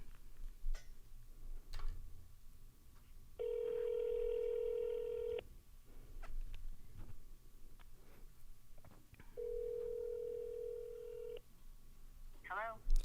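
Phone call being placed from an office, with outgoing ringback tones sounding twice as steady long rings, separated by ticking clicks and a faint murmur of voices nearby.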